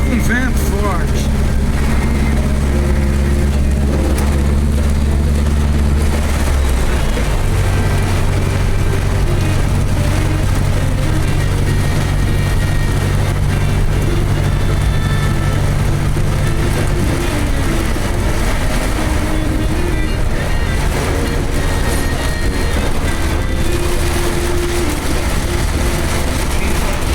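A Volkswagen Fusca drives through heavy rain and strong wind, with a loud, steady engine rumble and road and rain noise running throughout, shifting in pitch partway through.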